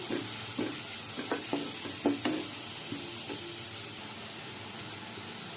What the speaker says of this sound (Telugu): కొంచెం మంచిగా ఆనియన్స్ ఫ్రై అవ్వడానికి త్వరగా